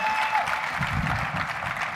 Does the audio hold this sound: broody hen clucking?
no